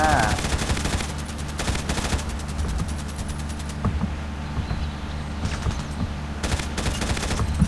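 Rapid automatic gunfire from the GB chicken shooter video game rattles in repeated bursts, loud and close, with someone talking over the shooting.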